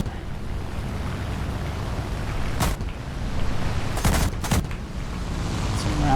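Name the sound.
aircraft gunfire from a flight combat video game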